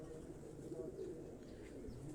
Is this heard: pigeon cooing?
yes